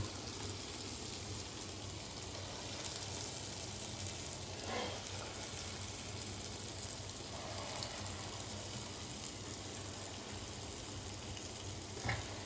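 Dahi vada lentil fritters frying in hot oil give a dense, even crackling sizzle like light rain, steady and close throughout with a couple of faint knocks, no talking.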